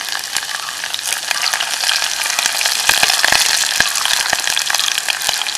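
Garlic and four green chillies fry in hot oil in a pan, a steady loud sizzle with crackling pops and scraping stirs throughout, no voices.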